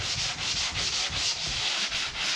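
Rhythmic scratchy strokes of sandpaper rubbing back and forth on a wooden cabinet door, close up and steady, with no voices.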